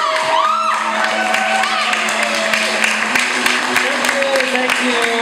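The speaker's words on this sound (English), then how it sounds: "Let's give a round of applause!" An audience at a Richmond comedy event claps and cheers as the final speaker, from Portland, Oregon, is introduced. Dense, steady applause with whoops and shouting fills the room throughout.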